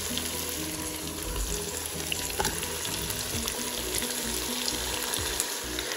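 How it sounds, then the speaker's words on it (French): Tomato goes into chicken karahi cooking in a Cookeo multicooker, giving a steady, moderate sizzle and bubbling with faint stirring clatter, no talking. "On ajoute également la tomate."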